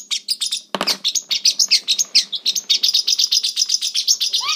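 A parrotlet wearing an anti-plucking Elizabethan collar chirps close and loud in a rapid run of sharp, high tweets, with a brief thump or rustle near the start.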